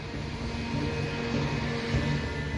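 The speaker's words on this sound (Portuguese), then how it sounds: "A torre do aeroporto de Haneda dá permissão para a decolagem do voo Japan Air 123." Boeing 747 jet airliner of Japan Air flight 123 taking off from Haneda airport: a steady, loud, broad jet-engine roar with a faint whine, continuous throughout and with no voices.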